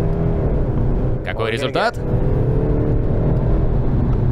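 A Mercedes C220d diesel pulls away hard from standstill, its engine note rising steadily and staying loud throughout, with a brief gear-change dip partway through and a person speaking over it.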